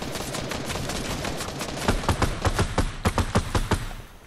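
Rapid gunfire in an online shooter video game, a steady stream of sharp shots that grows into a louder rhythmic burst toward the end, dense and continuous.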